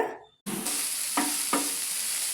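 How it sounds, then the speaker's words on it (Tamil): Chopped onions dropped into a hot pan with garlic and curry leaves, then a loud steady sizzle with two sharp scrapes of a spoon stirring. "இப்போ நாம் இதை எல்லாமே நல்லா வதக்கணுங்க"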